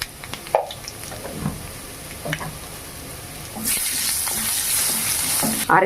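Mustard seeds, curry leaves and turmeric crackle and sizzle in hot oil, with occasional stirring clinks, then the frying swells into a louder, steady hiss.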